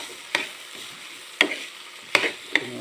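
Spiced rice being stirred in a pan, with four sharp scraping clinks of a spoon against the pan spread over a few seconds above a faint background sizzle.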